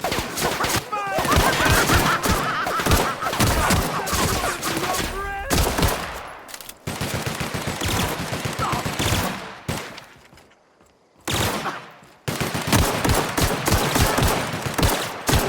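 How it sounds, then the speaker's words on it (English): Heavy automatic gunfire in The Outer Worlds game: dense bursts of rapid shots that rattle almost nonstop, broken by a brief quiet gap before the firing resumes loudly. "Returning fire!"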